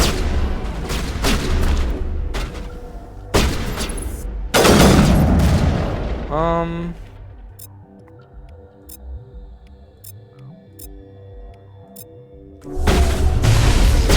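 Gunfire in Mass Effect 1 Legendary, loud bursts of rapid shots and booming impacts early on, then a quieter stretch of faint tones and clicks before heavy firing resumes at the end.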